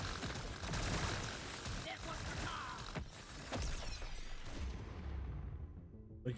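Rapid coil gun fire from Deep Rock Galactic Survivor, a dense stream of crackling shots and impacts under constant game noise and a talking voice, thinning out near the end.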